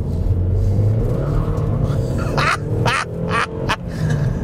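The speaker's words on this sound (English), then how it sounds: "spinning the wheels in an old Vauxhall Zafira" An old, high-mileage Vauxhall Zafira GSI spins its wheels. A loud, steady engine rumble is cut by several sharp bursts of tyre squeal and scrabble near the end.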